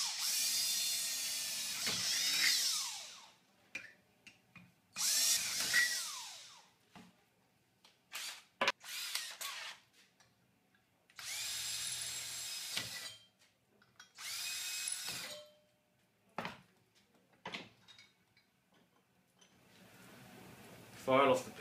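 A power drill fitted with 6.5 mm and 4.5 mm bits bores holes in steel tray brackets in a series of separate bursts. Each whirring run lasts a second or two, with quiet gaps and faint handling clatter between them.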